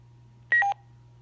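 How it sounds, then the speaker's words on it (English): A ham radio hotspot gives two short electronic tones in quick succession as it disconnects, a higher beep followed by a lower one, clear over a steady low hum. "It'll make the two tones when it disconnects."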